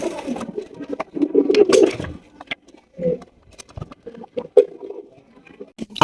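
Several fancy Golla pigeons coo in low, throaty bursts, close by, with pauses and some clattering between the calls.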